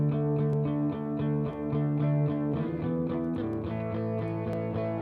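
A music mix drenched in long-tail reverb, a default two-second tail that smears each note into the next, playing steadily and fairly loud with no voices.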